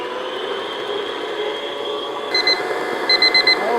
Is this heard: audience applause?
no